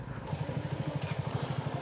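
A CFMOTO NK300 naked motorcycle idles close by after a test ride, its low engine putting out a steady, even pulsing beat with no one speaking.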